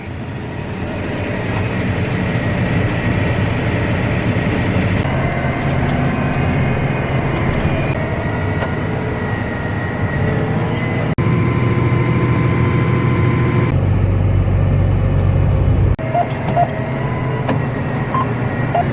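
A tractor engine running steadily from the operator's seat, a continuous droning hum with shifting pitch and load changes that carries on without a break for nearly twenty seconds.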